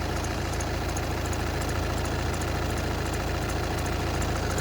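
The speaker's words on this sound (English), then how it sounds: "actually seems to idle pretty well" A 2014 VW Passat TDI diesel engine idles steadily and close by, a constant even clatter with a belt issue and a damaged harmonic balancer, no talking.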